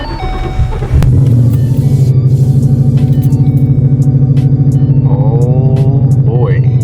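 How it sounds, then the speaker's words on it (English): Ford Mustang Boss 302 with a stiff clutch, first started after a week: a sharp crank about one second in, then a loud, steady, throbbing idle that holds to the end, with brief speech over it. "now I guess this is the start where we start the car"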